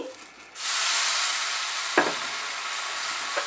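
Chitoi pitha batter hitting a hot, oil-brushed small kadai: a sudden loud sizzle bursts up after a quiet start and keeps hissing steadily, broken by a couple of sharp utensil knocks.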